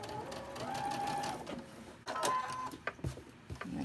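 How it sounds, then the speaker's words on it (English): A sewing machine runs steadily through bulky fabric for several seconds, its motor whirring close up, then stops and restarts in short uneven bursts as it hesitates. "your sewing machine may hesitate"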